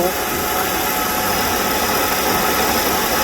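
Air conditioner compressor running continuously without cycling off, a steady, dense mechanical hum and buzz close up, unchanging for the full few seconds.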